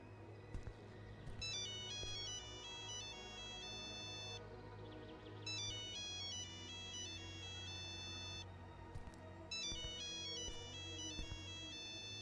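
A mobile phone ringtone in the horror game Tales Beyond The Tomb: The Last Vigil plays as a repeating, bright melodic phrase in three bursts, clear over a low background hum, with no talking.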